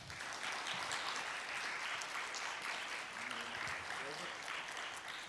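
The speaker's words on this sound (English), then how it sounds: "would you please give a round of applause once more to them?" An audience at a conference plenary session applauds the moderator and speakers, a steady, fairly faint patter of many hands clapping throughout, with a voice speaking briefly over it.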